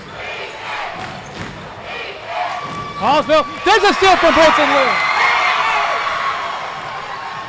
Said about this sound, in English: This crowd is getting loud now.